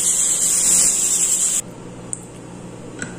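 Steam from a pressure cooker on the stove hisses loudly and steadily, then cuts off abruptly, leaving a quiet kitchen with a couple of faint clicks.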